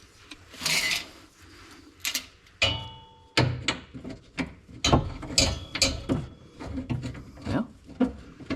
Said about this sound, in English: Using the ratchet.